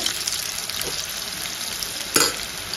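Mexico-style mushrooms fry in hot oil, giving a steady close sizzle with a sharper crackling burst as more pieces are added.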